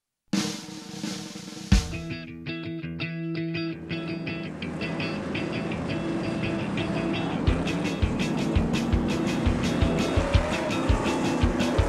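SK stock race cars roaring around Waterford Speedbowl at the 2008 season finale, loud engines building from a single close pass into a dense, continuous pack drone with rhythmic revving pulses and occasional tire squeal, no voices over it.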